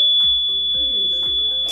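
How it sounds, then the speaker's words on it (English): An alarm goes off with a steady, piercing electronic tone. Repeated falling chirps sound every half second or so over it, close and loud with no voices. "Why nobody won't cut the alarm off?"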